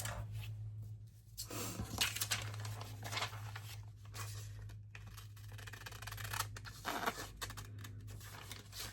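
A vellum journal card being cut out with scissors, irregular snipping and crisp paper rustling up close over a steady low electrical hum.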